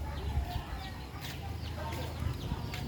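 Backyard chickens, with chicks, a hen and a rooster, clucking and cheeping in short scattered calls over a steady low rumble of background noise, moderately close.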